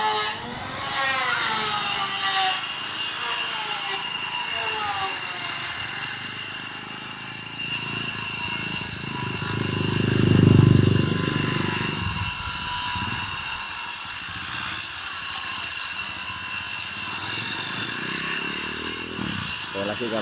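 A power tool cuts along the bottom of a door leaf, a steady high mechanical whine with a louder, heavier cutting surge in the middle, close by throughout.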